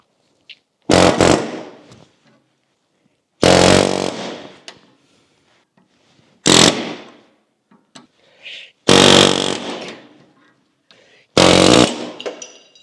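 A chisel is hammered against leaf spring bushings on a Scout 800 restoration, landing as five loud, separate impacts, each with a short ringing tail, with quiet gaps between.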